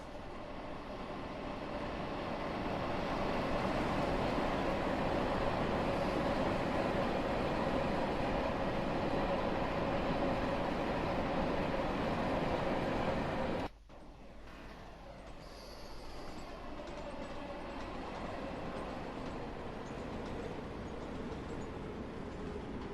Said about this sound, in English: And that's the train we're waiting for.